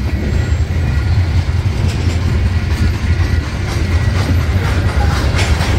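A freight train rolls past a level crossing with a continuous loud rumble and steady clatter of wheels on rails, close by and unbroken, with no voices.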